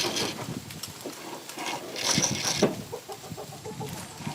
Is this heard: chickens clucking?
yes